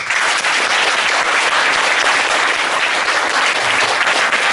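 Audience applause at an Amis indigenous music concert, a dense, loud, continuous wash of clapping from a full hall that holds steady throughout.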